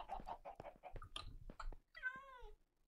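A Minecraft cat gives one short, close meow near the end, preceded by soft clicking and chewing-like game noises.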